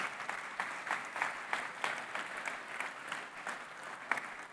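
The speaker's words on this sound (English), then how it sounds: "Give them a big round of applause." Applause from a conference keynote audience at an XR industry event, a moderately faint, somewhat distant patter of clapping with uneven swells, heard on its own without talk.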